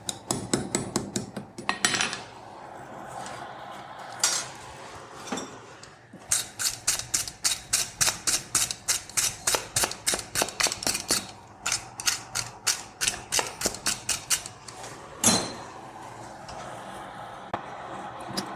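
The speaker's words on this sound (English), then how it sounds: "So I'm forging on the horn, putting the scarf on the horn" Hammer blows ring out on iron as a Viking-style key is forged over the horn of an anvil, the scarf weld being shaped; a few scattered strikes give way to long, steady runs of bright, close metallic hits.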